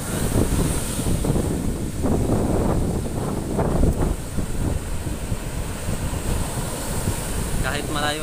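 Strong surf and gusting wind batter a small island shore on Sibay Island during Typhoon Fabian, a loud, continuous roar of breaking waves with heavy wind buffeting the microphone and brief chatter near the end.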